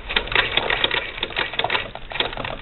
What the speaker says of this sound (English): And if you hear the noise, that's the handle on the case